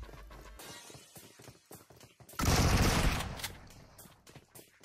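Gunfire in PUBG Mobile: scattered sharp shots followed by a sustained loud burst of rapid automatic fire, then trailing single shots, all close and dominant with no talk.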